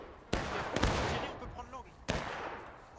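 Rifle volleys in the Civil War battle game War of Rights: three sharp, loud shots, the middle one in a rapid cluster, echoing over background noise and distant voices.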